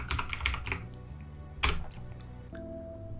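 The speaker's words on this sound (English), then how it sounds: "so once we're logged in, we're just going to type reboot" Computer keyboard typing of a command on a server node after login, a quick burst of close keystrokes, a pause, then another short cluster of keys, with a faint steady tone underneath.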